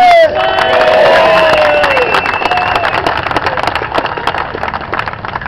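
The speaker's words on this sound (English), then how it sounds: "Round of applause." A crowd at an outdoor rally against Queensland bikie laws erupts in cheering and whoops over steady applause, loud and close, with shouted voices easing into continued clapping.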